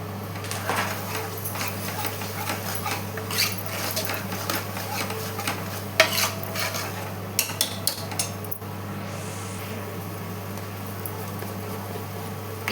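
Masala for Chettinad-style mutton gravy sautéed and stirred in a pan, scattered scraping and clinking spoon strokes over a steady low hum, with intermittent talking.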